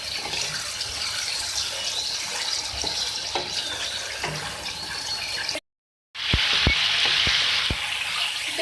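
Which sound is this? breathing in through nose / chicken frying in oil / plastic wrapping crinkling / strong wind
chicken frying in oil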